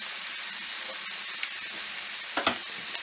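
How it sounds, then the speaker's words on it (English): Korean galbi beef short ribs searing in a hot pan, a steady bright sizzle with a few sharper spits and crackles near the end, close and continuous without speech. "now we have the other Korean, you know, short ribs being cooked"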